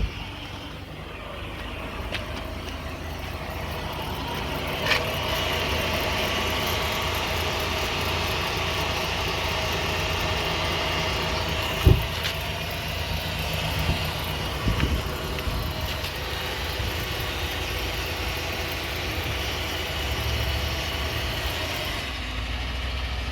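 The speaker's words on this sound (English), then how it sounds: "See, it's on idle, but the wheel both are spinning" A car idles in drive with its wheels spinning during a wheel bearing check, making a steady low engine hum with a faint continuous whir and a few small knocks, close by and with no talking.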